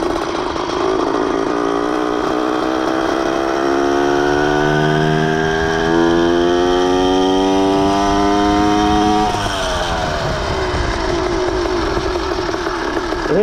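Phantom 85 motorized bike engine warming up, a loud continuous buzzing two-stroke drone that rises steadily in pitch, drops briefly, then climbs again, close to the listener with no talk.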